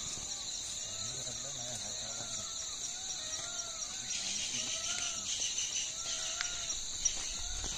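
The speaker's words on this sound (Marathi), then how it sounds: "मोर ओरडतात, मोर." Peacocks call in misty, rain-soaked hills, their squealing cries rising and falling as repeated distant calls over a steady chorus of insects, with no talking.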